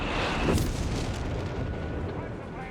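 A loud explosion bursts in a Company of Heroes 3 battle, followed by a lingering low rumble under a commentator's voice.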